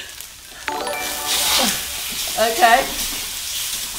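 Oysters and flat rice noodles for char kway teow sizzle and fry in a hot wok, a steady crackling hiss that swells as food is stirred, with a brief spoken word near the start.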